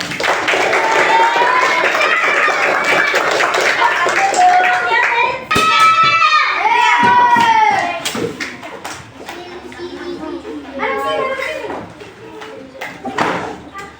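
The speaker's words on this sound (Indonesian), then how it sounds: "Tepuk tangan" Children in a Year 4 classroom clap their hands in rhythmic bursts, loud and near, mixed with a teacher's and kids' voices speaking throughout.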